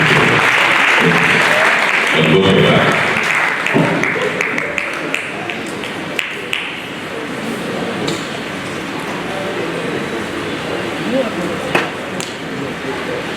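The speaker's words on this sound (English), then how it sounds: "Keep clapping" A conference audience at the FOE annual international conference breaks into loud, dense, sustained applause, which gradually thins while a voice speaks over it near the end.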